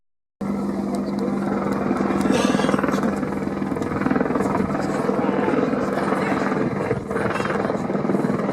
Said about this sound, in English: you can see the Apache's powerful hover performance